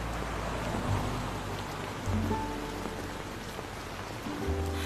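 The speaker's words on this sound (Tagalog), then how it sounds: "Oo, umuulan." Steady rain falls at night in a drama scene, a dense continuous hiss with low tonal music underneath, no voices.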